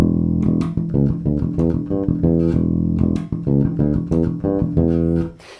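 A funky electric bass riff full of ghost notes plays alone, with busy, percussive muted plucks between sustained pitched notes in a dense syncopated rhythm, loud and close before fading at the end.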